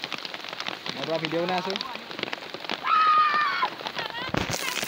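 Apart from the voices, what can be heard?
heavy rain falling in a flooded village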